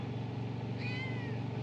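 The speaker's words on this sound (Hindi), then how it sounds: "म्याऊं म्याऊं मुझे बहुत अच्छी लगती है" A cat gives a single short, rising-and-falling meow that sits faintly over a constant loud rumbling background noise. No voices are heard.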